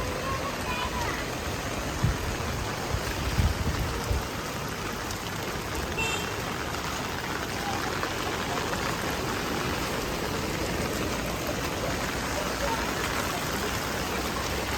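Floodwater rushes steadily and continuously across a road during Typhoon Bebinca in eastern China, like heavy rain pouring down, with a couple of faint knocks.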